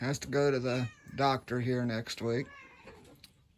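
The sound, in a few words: cat meowing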